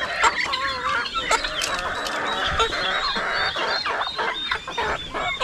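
Flock of farm chickens clucking and squawking continuously, close and busy, with overlapping calls throughout.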